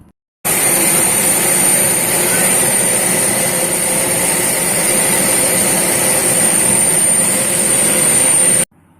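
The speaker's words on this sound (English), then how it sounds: "Now let's listen the sound of this flight, how the flight sound." Loud, constant roar of a jet engine with a high whine on top, holding steady for several seconds before cutting off.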